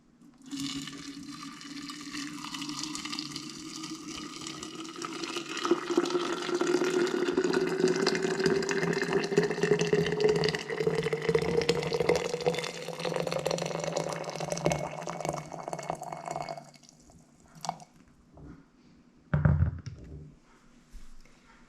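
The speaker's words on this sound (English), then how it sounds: "And then we're just going to fill it with hot water." Hot water pours steadily into a large glass jar, the filling tone rising in pitch as it fills, then stops, followed by a brief clunk.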